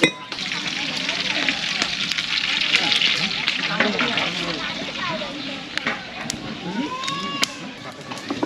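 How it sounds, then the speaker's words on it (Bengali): Eggs frying in a pan on a home stove during village wedding cooking, a steady close sizzle with occasional clinks and stirring, voices murmuring faintly in the background. "ডিম ভেজে দিচ্ছে।"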